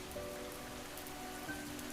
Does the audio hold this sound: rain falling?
yes